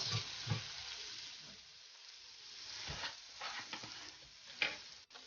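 Beet leaf borani with red pepper being stirred in a pan: scraping utensil strokes and soft sizzling at close range, uneven in rhythm, with no talking.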